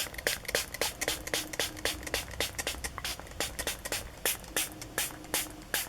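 A spray bottle mists water onto a doll's hair in a quick series of short, sharp hissing bursts, close and fairly faint, with no talking.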